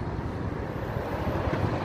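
Wind rushing past a microphone while riding a bicycle outdoors, a continuous broadband roar with low buffeting, steady and close throughout.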